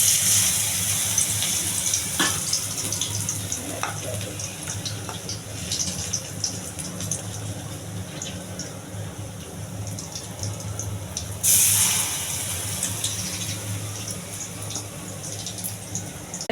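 Coriander leaf fritters coated in gram flour batter with sesame and ginger bubble and hiss in hot oil, a steady dense frying noise with a brief louder surge midway and no talking.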